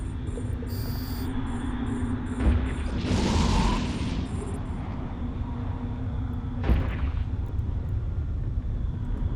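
Ship weapons fire in EVE Online space combat, with a few dull booming shots and a hissing burst over a constant low electronic hum and high ambient tones, without speech.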